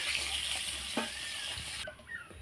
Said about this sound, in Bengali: মাছটা ভাজা হয়ে গেছে, এবার তুলে নেবো আমি।